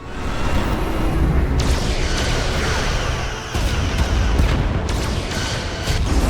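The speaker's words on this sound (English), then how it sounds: "Taking heavy fire." Starship in Star Trek Resurgence under heavy weapons fire, a loud, continuous rumble of explosions with sharp blasts and impacts breaking through at intervals.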